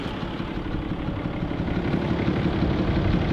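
A diesel truck engine idles close by with a steady, low, continuous rumble, growing slightly louder toward the end with no one talking.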